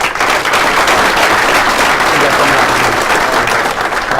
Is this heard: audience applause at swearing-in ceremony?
yes